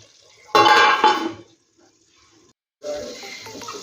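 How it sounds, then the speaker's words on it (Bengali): A metal lid clatters onto a pot of chicken and potato curry, one sharp clang with a short rattle, then quiet, followed by a second softer scraping clatter near the end. "আবারও ঢাকা চাপা দিয়ে দেবো।"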